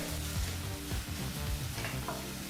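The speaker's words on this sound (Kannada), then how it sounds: "ಟೊಮೊಟೊ ಹಣ್ಣು ಮೃದು ಆಗಬೇಕು ಅಂದರೆ ಬೆಂದು ಸಾಫ್ಟ್ ಆಗಬೇಕು ಅಲ್ಲಿವರೆಗೂ ಟೊಮೊಟೊ ಹಣ್ಣನ್ನು ಫ್ರೈ ಮಾಡ್ಕೋಬೇಕಾಗತ್ತೆ" Tomatoes fry in a pan for a curry-leaf gojju, giving a steady close sizzle with repeated low scraping stirs across the whole stretch and no voices.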